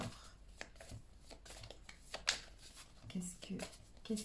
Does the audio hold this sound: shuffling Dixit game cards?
yes